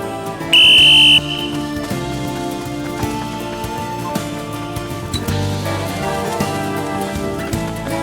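A single short, shrill whistle blast sounds near the start, set against continuous background music in a Turkish drama scene.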